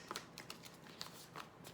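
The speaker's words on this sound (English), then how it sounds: "So, I am shuffling up the cards." A deck of oracle cards being shuffled by hand, soft papery riffles and taps in quick bursts, close and quiet.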